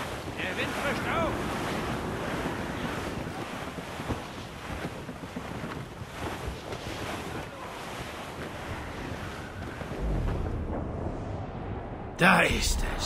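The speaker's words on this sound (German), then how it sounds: "Der Wind frischt auf." Strong wind and surging waves at sea in Assassin's Creed Rogue keep up a dense, continuous roar that swells briefly near the end.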